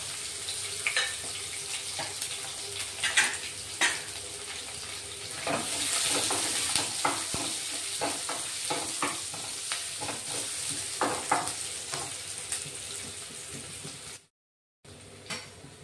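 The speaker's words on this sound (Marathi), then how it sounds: "कांदा चांगला परतून झाला" Chopped onion, curry leaves and two green chilies sauté in a pan for chicken gravy, with soft frying sizzle under repeated scraping stir strokes and a brief silent gap near the end.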